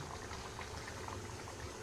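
Egg curry sauce simmers in a pot with a faint, steady bubbling boil, a low continuous burble heard close and alone without any talking.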